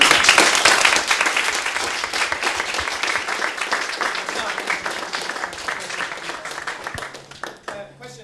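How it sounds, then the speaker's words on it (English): Round of applause from an audience at a makers careers fair, dense continuous clapping that stays loud through most of the stretch, then thins out and fades near the end. "round of applause"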